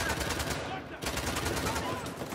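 Gunfire in the video game Uncharted: The Lost Legacy, a dense, continuous stream of rapid shots with a short lull partway through.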